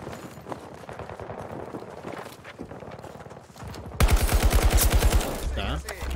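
Rapid automatic gunfire rattles in Battlefield 2042, starting as dense mid-distance bursts and then switching to a louder, closer stream of evenly spaced shots.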